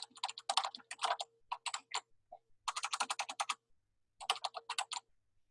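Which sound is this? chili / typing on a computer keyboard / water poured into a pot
typing on a computer keyboard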